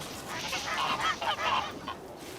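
Geese honk repeatedly on a cooperative farm in North Korea, a fairly faint, busy cluster of overlapping calls over steady outdoor background, with no talking.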